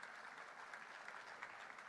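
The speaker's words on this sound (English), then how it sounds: "Let's have a huge round of applause" Audience applause at a national convention ceremony for company secretaries, a continuous wash of many hands clapping, even and distant-sounding, heard briefly and alone.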